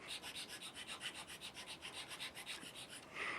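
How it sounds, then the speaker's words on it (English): A finer file is worked back and forth across an object, probably a piece from an excavation, in quick, regular rasping strokes at close range, roughly six per second, fairly quiet with no talk. "I then move on to a finer file and do it again."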